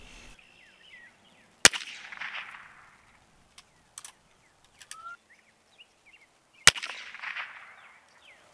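Two sharp gunshots about five seconds apart, each a sudden loud crack followed by a brief decaying ring, fired at the edge of a lead knife blade to split the bullet, with light outdoor ambience and faint bird chirps between.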